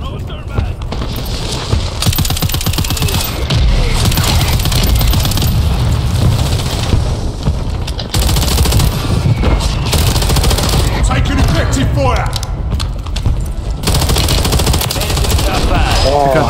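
Loud, nearly nonstop automatic gunfire and rapid shots from a Call of Duty Warzone Resurgence quads match on Fortune's Keep, dense and close, with players talking over it.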